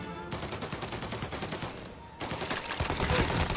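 Rapid automatic fire from a Tommy gun in Mafia: Definitive Edition, a dense rattling burst that pauses briefly, then resumes louder and steadier, close and dominant with no talk.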